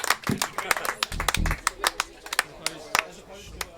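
Applause for the band, featuring a double bassist, comes as scattered, sparse claps, with a few distinct sharp hand claps standing out rather than a full ovation.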